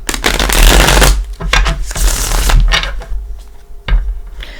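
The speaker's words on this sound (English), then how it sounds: "Let's use the Gilded Tarot. Let me give a couple shuffles." A tarot card deck shuffled by hand, a few loud close riffling bursts with brief pauses between them, alone without talk.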